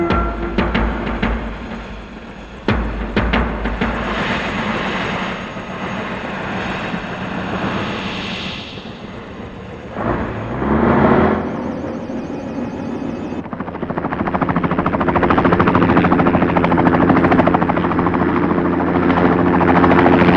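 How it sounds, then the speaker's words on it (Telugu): A helicopter's engine starts up and its rotor builds into a loud, steady whir as it takes off and flies, close and continuous with no one talking. "ఇప్పుడు మనం వెళ్తున్న హెలికాప్టర్ పాకిస్తాన్ది"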